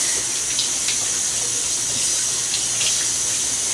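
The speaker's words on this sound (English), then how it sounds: "Time for the cucumber. Gonna give it a good rinse." Tap water runs in a steady, loud, close stream as a cucumber is rinsed under it, with a constant hiss and faint splashes throughout.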